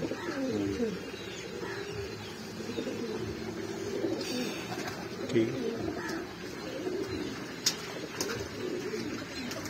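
Soft pigeon cooing repeats throughout under steady low background noise, with a few faint chirps and clicks mixed in.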